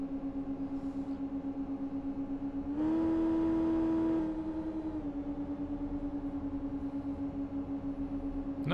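A 2017 Ford Focus RS in the City Car Driving game idles as a steady engine drone, then is held at about 5000 rpm as a higher, louder hum for over a second before settling back.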